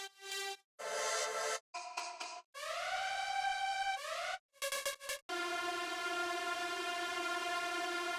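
A synthesized atmospheric energy drone sample with sustained harmonic tones, rising and falling pitch sweeps and short stuttered bursts, ending in a long steady droning layer, loud and alone with no talk.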